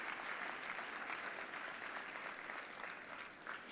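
Applause from a school assembly audience at an education event in India, a soft, distant and even patter of many hands that carries on without pause.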